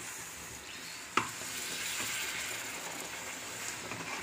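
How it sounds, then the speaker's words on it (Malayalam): Coconut milk is poured into jackfruit halwa cooking in a pan: a single knock, then a soft, even hiss and bubbling that carries on quietly to the end. "ഇപ്പോൾ ഞാൻ തേങ്ങാപ്പാൽ ഒഴിച്ചു കൊടുക്കുകയാണ്"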